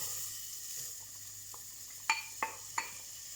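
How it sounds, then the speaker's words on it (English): Onions stirred into hot oil in a pan, a soft steady sizzle broken by three sharp scrapes or taps of a utensil against the pan near the end, with no talking. "The oil has heated up and I'll just add in the onions"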